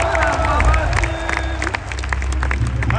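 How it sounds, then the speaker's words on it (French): Audience in a concert hall at a metal show in Nice applauding and cheering, a dense, sustained wash of clapping and whoops with voices mixed in. "On peut applaudir Mathis."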